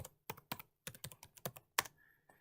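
Quick, uneven bursts of typing on a computer keyboard, crisp close clicks with short pauses between runs of keystrokes in a quiet room.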